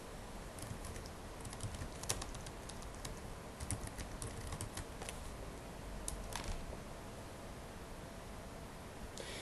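Rapid keystrokes clatter on a computer keyboard as a username and password are entered, irregular clicks coming in quick bursts over a steady low background hiss.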